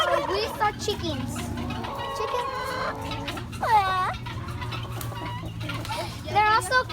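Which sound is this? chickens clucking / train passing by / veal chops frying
chickens clucking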